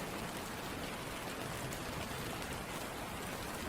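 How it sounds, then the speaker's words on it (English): Gentle rain falls in an even, continuous patter and hiss, steady and unbroken throughout, with no voices. "listen to the gentle sound of the rain"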